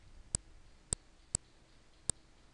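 A computer mouse on a Windows 8 PC gives four crisp, isolated clicks, spaced unevenly and heard close with no talking.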